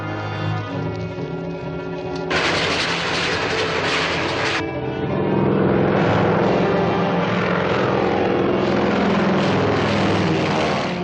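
A propeller airplane drones steadily overhead, its engine a loud, continuous rumble that swells and thickens partway through, with no voices.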